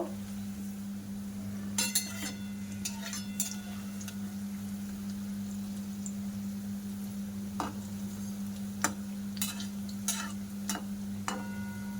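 Lachha nimki frying slowly in hot oil over a low flame, a faint steady sizzle with a constant low hum beneath and scattered soft clinks and stirring sounds, no one speaking.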